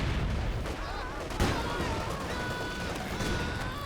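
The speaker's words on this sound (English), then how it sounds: "Lots of grenades there." Grenade blasts and gunfire in a Company of Heroes 2 battle against advancing Russian conscripts, a dense, continuous clatter of shots and booms with one sharper burst, under game noise without clear speech.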